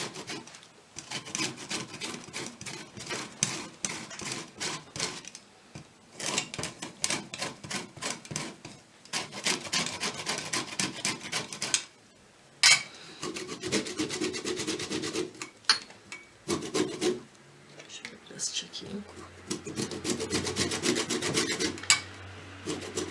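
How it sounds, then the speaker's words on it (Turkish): Lemon peel is grated on a hand grater, producing close, dry, rasping scrapes in quick rhythmic bursts separated by short pauses, fairly quiet and continuing for over twenty seconds. "bunun kabuklarını güzelce rendeliyorum. Çok beyaz kısımlarına girmeden güzelce rendeliyoruz."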